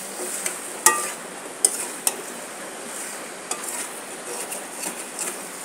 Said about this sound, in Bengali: এখন চাল কুমড়োগুলো দিয়ে দেবো। এখন ভালো করে নেড়ে দেবো।